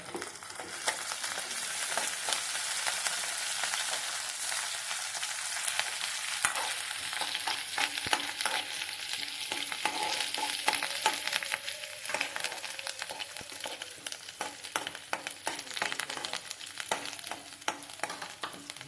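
Curry leaves sizzle and crackle in hot oil in a pan while being stirred, a steady close frying hiss with scraping stir strokes throughout and no talk.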